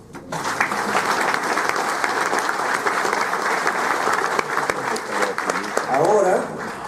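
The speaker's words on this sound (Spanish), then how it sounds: "Esto merece un aplauso." An audience applauds at an exhibition event, with dense sustained clapping that swells after a brief start and keeps going evenly for several seconds before tapering slightly at the end.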